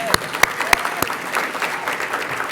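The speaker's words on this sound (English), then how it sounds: "I think we should give you a round of applause." Audience applause at a school health award ceremony, a short burst of clapping with sharp individual claps standing out over a dense crowd of hands.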